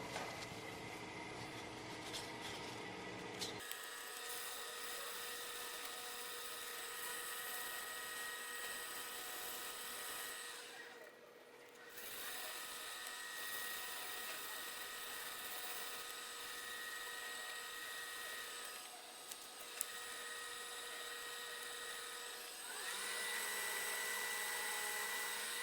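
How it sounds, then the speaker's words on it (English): Wooden finials are sanded while spinning on a lathe. The motor whines at a high, even pitch, and the abrasive scratches steadily against the turning wood, with the tone shifting at a few points as pressure changes or the machine pauses. "we can now proceed to sanding"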